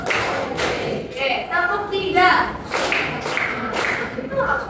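A group of learners in a classroom clapping game claps in short bursts, with several distinct slaps ringing out near and fairly loud, while voices talk and call out between the claps.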